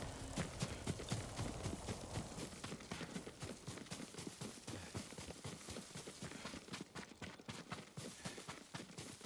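Horse hooves clip-clop in Ghost of Tsushima, a rapid continuous run of hoofbeats throughout at moderate level, with no talk.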